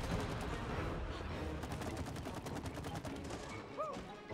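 Rapid gunfire from a shooting sequence in the co-op video game It Takes Two, a dense steady burst of repeated shots lasting throughout, with faint game effects layered underneath.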